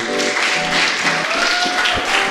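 An audience applauds a saxophonist being introduced at a live creative-writing performance. A dense, steady patter of clapping fills the short stretch, with faint tonal sounds beneath it.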